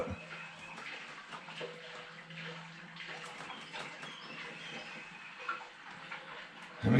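A 40-gallon water heater tank fills with water, giving a steady close rushing hiss with faint trickling and gurgling throughout and a louder burst at the very end.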